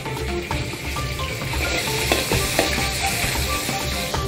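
Sliced pork belly fries in oil in a wok with a loud, continuous sizzle, accompanied by a few sharp clicks and scrapes of a spatula, with no talking.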